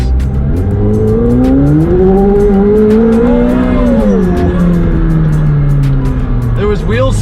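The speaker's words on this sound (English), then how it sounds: "There was wheel spin. There was a little wheel spin." A McLaren 765LT supercar launches with a little wheel spin, its engine roaring loud and close as the pitch climbs and swells, with faint tire chirps and rapid ticking over the steady drone.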